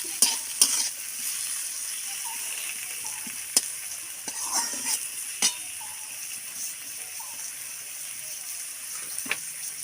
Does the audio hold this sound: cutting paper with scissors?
no